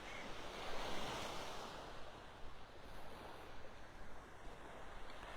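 Ocean surf washes steadily onto a beach in North Naples, Florida, a continuous broadband rush of breaking waves with some wind noise on the microphone, no voices.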